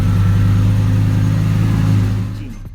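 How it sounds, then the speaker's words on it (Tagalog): A Lamborghini Gallardo Spider, an Italian sports car with a loud V10 engine, holds a strong steady rev close by, its deep growl sustained before dropping off and fading near the end. "Ang Italian car na ito ay may maingay at napakalakas na V10 engine"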